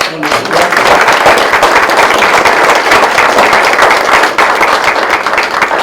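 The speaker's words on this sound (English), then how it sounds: "ask for another round of applause for the Sons and for the auxiliary" A crowd at an American Legion post's memorial breakfast gives a loud, sustained round of applause for the Sons and the auxiliary, dense steady clapping that fills the room without a break.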